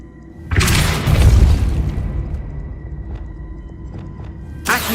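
A Depulso spell blast in Hogwarts Legacy lands as a loud, deep booming burst that rumbles and slowly fades over several seconds, followed by a fresh sharp hit at the very end.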